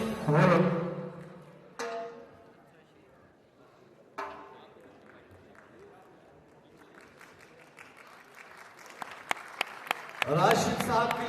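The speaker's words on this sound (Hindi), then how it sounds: "जोरदार तालियों की आवाज" Audience applause at the Bolan Awards 2021 ceremony in Pakistan, marking a best actor award. Loud bursts of clapping open and close the passage, with shorter swells in between, mixed with voices talking.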